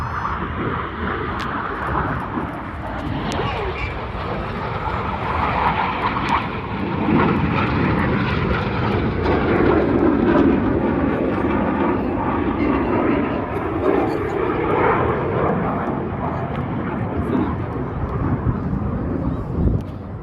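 RAF Red Arrows jets fly past at an air festival while performing an opposition barrel roll, producing a loud, sustained jet roar that swells and fades as they pass, with a commentator talking over it.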